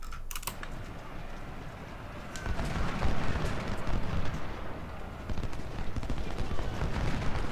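Musket volleys in Ultimate General: Civil War, a dense crackle of scattered shots rolling continuously over battlefield rumble, swelling and easing in waves without a clear break.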